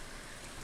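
Rain falls in the Stardew Valley video game, heard as a soft, steady, even hiss of rainfall with no voices over it.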